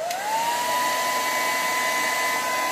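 Hair dryer blowing on the cool setting while drying a lace front wig, a steady close whine that rises briefly at the start and then holds even and loud, with no talking.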